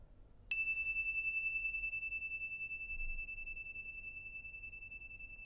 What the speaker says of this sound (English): if we listen to the sound of the bell